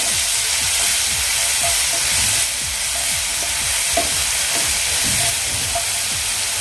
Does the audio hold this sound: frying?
yes